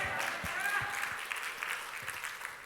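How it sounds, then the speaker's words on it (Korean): A church congregation applauds during a sermon, a continuous mid-level patter of many hands with a voice speaking over it and a few low thumps scattered through. "그렇게 믿으시면 크게 박수하면서 아멘"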